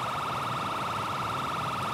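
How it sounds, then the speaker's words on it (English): A loud emergency siren from an ambulance in the video game GTA 5 wails steadily and without a break, close and continuous with no talk over it. "Okay, ambulance, you can shut the sirens off, man."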